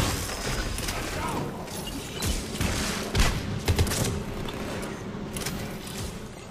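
Rapid gunfire and weapon impacts in the Mass Effect 3 multiplayer video game, fighting Collectors, with bursts of shots and thuds over a dense, busy game soundscape, fairly loud throughout.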